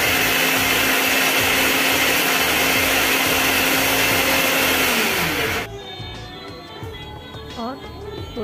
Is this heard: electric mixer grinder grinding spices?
yes